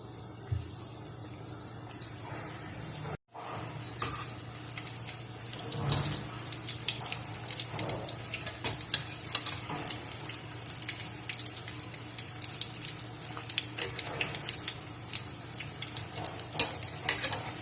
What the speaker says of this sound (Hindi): और इनको हम फ्राई कर लेंगे।